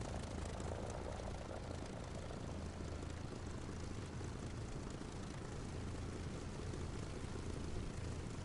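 A fighter plane's propeller engine in a flight game drones steadily and evenly, a continuous, moderately faint hum with no one talking.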